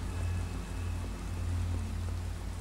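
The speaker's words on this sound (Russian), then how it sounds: "вот когда дождь идет" Rain falls in Minecraft, a continuous rushing patter with a deep rumbling undertone, steady and fairly loud for the few seconds it runs, no voices present.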